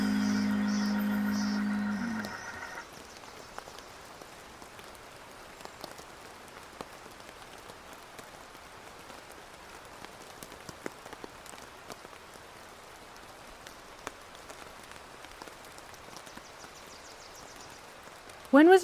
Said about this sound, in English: When was the last time you sat and listened to the rain?